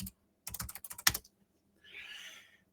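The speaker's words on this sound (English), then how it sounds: "I'm just going to type in my text here." Quick bursts of typing on a computer keyboard, a rapid cluster of close key clicks, then a pause and a soft hiss.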